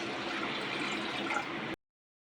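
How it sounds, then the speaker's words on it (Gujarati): A glass of water poured onto toor dal in a cooking pot for five-person sambar, a steady, full splash running evenly for under two seconds before stopping abruptly. "1 ગ્લાસ પાણી નાખીશું"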